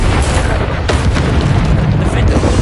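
Bombarda spell blasts in Hogwarts Legacy pound through a loud, dense wall of booming combat noise that never lets up, with deep rumbling explosions layered over each other.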